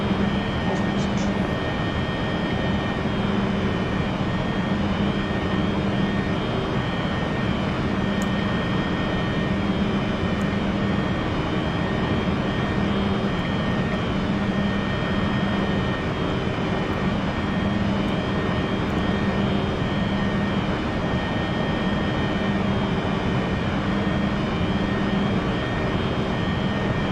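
Simulated E-Jet 175 jet engines in X-Plane hold a steady, loud drone while climbing out of Palm Springs, a continuous broadband roar throughout with voices talking over it.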